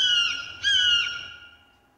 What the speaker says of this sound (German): Okay, nur ein Vogel.